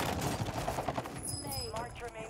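Automatic gunfire in Warzone 2, Season 5 Reloaded, firing as a rapid stream of close, sharp reports with game effects layered in. The shots run under and between voices talking over team chat.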